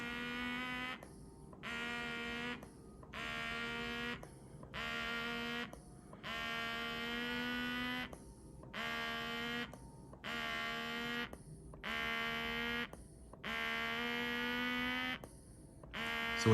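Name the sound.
Achedaway cupping therapy massager suctioning skin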